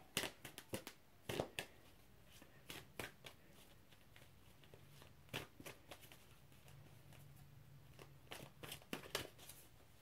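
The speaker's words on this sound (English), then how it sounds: "let me just shuffle a little bit more" Cards are shuffled in quick bursts of crisp riffling and flicking, close by, with short pauses between rounds and no talking.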